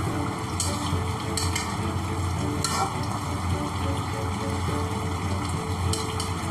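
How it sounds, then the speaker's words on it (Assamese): Chicken fries hard in a pan with a loud, continuous sizzle, broken by repeated scraping strokes of a spatula as the meat is stirred close by. "মই অকণমান ভাজতে ৰাখিম, সেইকাৰণে অকণমান কাঢ়াকৈ ভাজি লৈছোঁ।"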